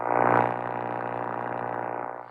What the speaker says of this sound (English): the old but great for hams analog fast scan color TV signals.